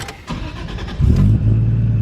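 A dyno-tuned, high-power Chaser car engine cranks and fires up, a short starter churn followed by a loud catch and rev that settles into a rough, throaty idle close by.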